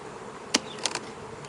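Honey bees buzzing in an opened overwintered hive during an inspection, a faint steady hum with a few brief closer buzzes as individual bees pass near.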